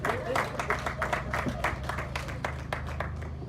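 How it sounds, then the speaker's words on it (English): Audience applause for the mayor at the official reopening of Mbare Swimming Pool, a steady wash of many hands clapping with scattered louder claps, heard at moderate distance. "Another round of applause for Mayor."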